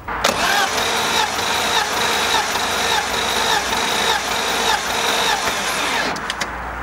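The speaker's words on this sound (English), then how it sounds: "let's crank over the car and see what we get for readings on cylinder number 1" A BMW M50/M52 inline-six cranks on the starter during a compression test on cylinder one, a loud rapid rhythmic whirring with even pulses, steady for several seconds before stopping.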